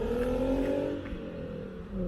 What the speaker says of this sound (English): that was also a ride vehicle being very loud